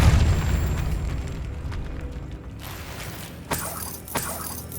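Depulso force spell striking and shattering an object in the video game Hogwarts Legacy, heard as a mechanical rumble that gives way to two sharp bursts near the end, with no talk.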